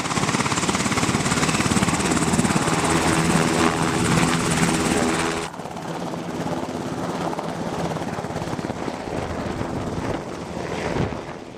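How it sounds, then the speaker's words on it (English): Sikorsky UH-60 Black Hawk military helicopter, a loud continuous rotor and turbine roar with rapid blade thumping, dropping slightly in level partway through as it holds steady nearby. "The UH-60 was the first S-70 Black Hawk series of helicopters to enter service."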